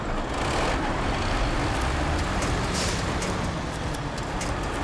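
Heavy truck engines in the video game SnowRunner, with two trucks lined up and a big P16 among them, give a steady, loud broadband rumble and drone that holds without a break throughout.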